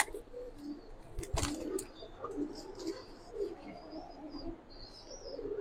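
Pigeons coo softly at a pigeon loft on a farm, with Giribaz and other racing and colour pigeons kept both free and in cages; low murmuring calls repeat under faint chirps and a brief bump of handling noise.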